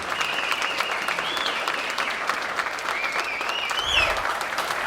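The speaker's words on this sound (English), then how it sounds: "Let's give a warm round of applause to him." A luncheon audience at an SMU football signing day event applauds Coach Chad Morris, a steady wash of many hands clapping at moderate volume, with a faint whistle-like tone drifting above and a slight swell near the end.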